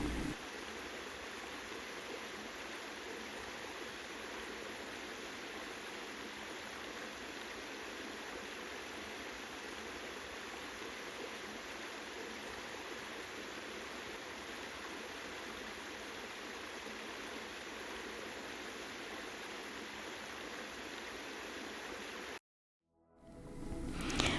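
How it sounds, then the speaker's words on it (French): A small forest stream with a little waterfall makes a steady, unbroken rush of flowing water that stays even and fairly soft, cutting out briefly near the end. "petite rivière, une petite cascade. Et entendre l'eau couler, je trouve ça... Enfin, j'adore."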